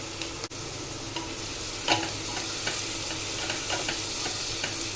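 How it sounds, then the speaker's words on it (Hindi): A spoonful of whole cumin seeds sizzles in hot mustard oil, a steady close hiss with small crackles and pops, heard alone without talk. "इसमें 1 चम्मच साबुत जीरा ऐड कर रहे हैं।"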